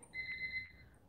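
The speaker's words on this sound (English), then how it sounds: "Timer went off." An electronic timer goes off during a live vintage auction sale, a short, close run of rapid high beeps lasting under a second, alone with no talking.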